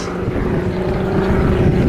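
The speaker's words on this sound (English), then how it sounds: "The Sea Fury really took piston-engined aircraft design to the absolute limit." Steady, loud drone of a Sea Fury piston-engined propeller aircraft at the RAF Leuchars Airshow, its deep humming engine tone swelling slightly as it passes.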